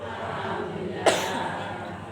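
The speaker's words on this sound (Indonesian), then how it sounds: "Ada yang batuk bu?" A single short cough rises once from a women's audience in a mosque during a religious study gathering, heard against a low steady room hum with no talk around it.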